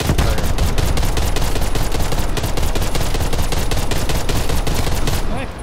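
Rapid automatic fire from a Type 63 gun in a zombies video game, a loud continuous burst of dense, evenly spaced shots that cuts off near the end.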